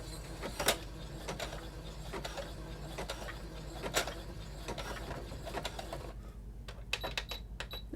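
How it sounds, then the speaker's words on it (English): A sewing machine zigzag-stitching backwards over elastic on a lace fashion mask makes a quiet mechanical whirring, punctuated by sharp clicks and ticks at irregular intervals. "I go back to that zigzag stitch and I zigzag backwards, back over the elastic"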